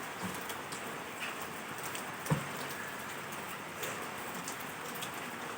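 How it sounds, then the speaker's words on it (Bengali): Steady rain patters on a surface throughout, a dense, even hiss with one brief louder knock partway through. "এত বৃষ্টি হচ্ছে"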